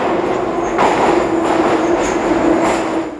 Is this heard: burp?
no